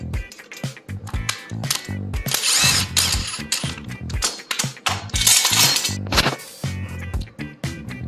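A tool turns to remove a Tongsheng TSDZ2 e-bike crank on a Bike Friday folding bike. It gives close, loud repeated clicking and grinding bursts in an uneven rhythm, with metallic clinks between strokes.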